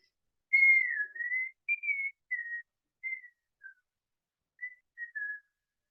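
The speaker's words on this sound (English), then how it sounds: "And begin to whistle." A person whistles slowly and softly during a kundalini yoga meditation, a string of about eight short, gentle notes with pauses between them, alone in a quiet room.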